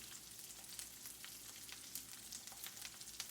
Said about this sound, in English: Beef chorizo's cooking nicely.